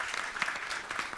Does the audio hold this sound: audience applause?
yes